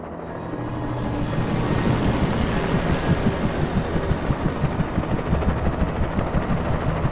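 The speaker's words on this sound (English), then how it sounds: "That's a chopper." A video game helicopter throbs loudly and close, its rotor beating in a steady pulsing rhythm over a constant roaring engine hum that builds in the first second and then holds.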